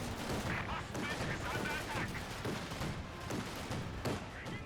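Rapid flak cannon fire from an Ostwind anti-aircraft tank in a Company of Heroes 2 battle, dense continuous bursts of gunfire and explosions filling the whole stretch, loud and busy with overlapping shots.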